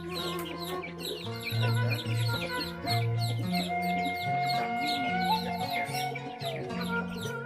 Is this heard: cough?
no